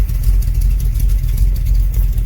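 Original 85,000-mile 1971 Chevy Longhorn one-ton pickup with a 402 big-block V8 idling, a deep, steady, slightly lumpy rumble heard up close and loud on its own.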